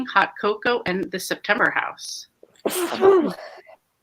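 A sharp sneeze bursts out after a stretch of talking and is followed by more speech, all close and loud.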